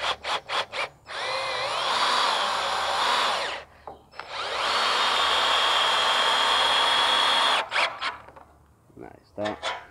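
A power drill drives screws through guide holes to join two wooden pieces of a homemade mobile chicken coop, two long whirring bursts bracketed by short revving pulses and taps, close and loud.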